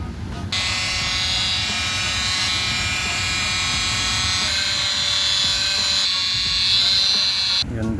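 A small polishing machine whines steadily as it polishes a car headlight before protective film goes on, a loud continuous high buzz up close with brief starts and stops at either end and someone talking over it.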